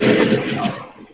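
A flashbang grenade goes off in Counter-Strike: Global Offensive, a loud, dull burst that fades over about a second.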